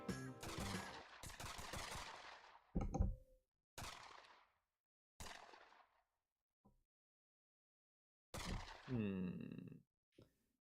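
Gunfire from revolvers in Pavlov VR, a multiplayer VR shooter, during a competitive match: loud bursts of rapid shots, then several sharp separated cracks with silent gaps, and a final cluster of shots near the end.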